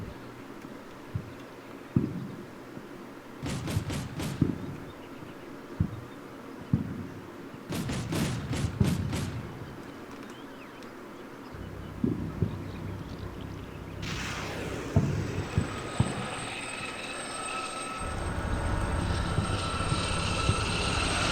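Helicopter weapons fire in the video game Combat Mission Black Sea: two bursts of rapid sharp shots, then a loud blast with a rushing roar that tails off, over a low engine drone.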